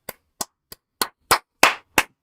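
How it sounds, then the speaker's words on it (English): Eight sharp hand claps spaced about a third of a second apart, fairly close and crisp with no voices, from someone applauding sarcastically while watching a Manchester United versus Manchester City Carabao Cup match. "I applaud that."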